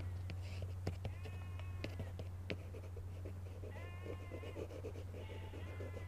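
Sheep bleating in a distant rural field beside a hedgerow, several faint, thin bleats rising over a steady low hum and background noise, some overlapping toward the end.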